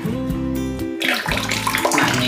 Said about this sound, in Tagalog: Ayan, running water na yung gagamitin natin.